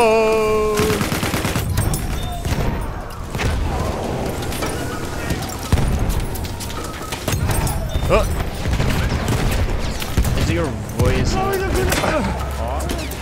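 Machine gun fire and scattered gunshots in Battlefield 1 multiplayer, repeated bursts crackling amid battlefield noise, with voices talking over the fighting.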